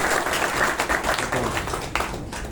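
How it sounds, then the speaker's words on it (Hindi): Applause from an audience at an event, a continuous wash of many hands clapping, moderately distant and even throughout the short stretch. "इनके लिए आप दिल खोल करके ताली बजाएं।"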